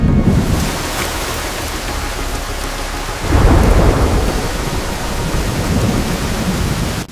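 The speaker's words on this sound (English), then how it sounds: "The storm is drowning the valley." A heavy thunderstorm over a valley: dense rain pours steadily while a loud roll of thunder breaks in about halfway through and rumbles on under the downpour.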